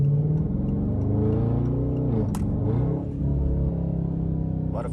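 A Dodge Charger Scat Pack engine revving hard through a downshift, a loud sustained mid-pitched roar that swoops down and back up in pitch, close and with no talk.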